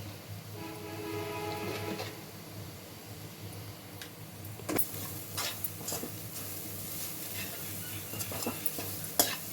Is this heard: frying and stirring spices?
yes